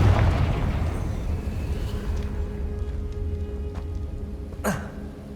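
Confringo blasting spell explosion in Hogwarts Legacy: a loud opening boom with a low rumbling tail that fades over several seconds, followed by a brief sharp crack near the end.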